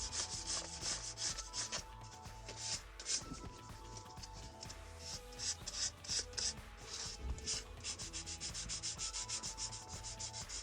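Filler primer is sanded flat on the body of a vintage Singer 107W1 sewing machine during a rebuild, in steady, rhythmic rubbing strokes that are soft and close by.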